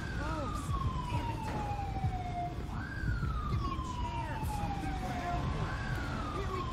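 Ambulance siren in GTA 5, a wailing tone that rises and falls in long sweeps, moderately distant, over background traffic and game noise with a voice speaking briefly.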